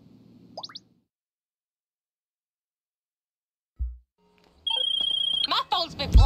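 A phone rings in the video game GTA Online, a bright, steady electronic tone arriving after near silence and a short soft thump, with a voice talking over the end.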